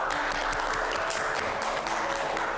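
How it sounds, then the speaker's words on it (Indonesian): A podcast studio audience breaks into applause at the opening of an Indonesian show, a dense continuous wash of clapping at steady volume for a couple of seconds. "Tepuk tangan dulu untuk kita semuanya."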